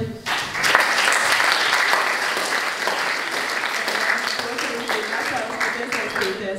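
Sustained applause from a crowd fills the room, dense steady clapping that continues loudly throughout with a voice talking over it.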